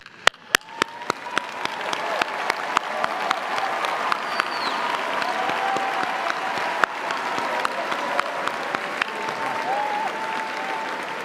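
Sustained applause from a large commencement crowd as cum laude graduates stand at Ohio University's spring ceremony, beginning with a few sharp claps and swelling into steady dense clapping that holds to the end, with faint voices mixed in.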